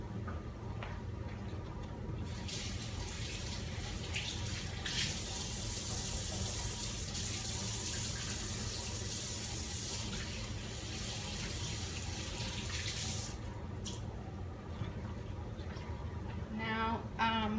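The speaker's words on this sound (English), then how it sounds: "Let me wash my hands." Tap water runs steadily into a kitchen sink for hand washing, a continuous broadband splashing rush lasting over ten seconds, with faint clinks and a little background noise around it.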